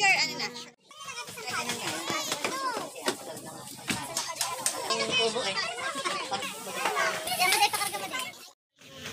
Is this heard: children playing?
yes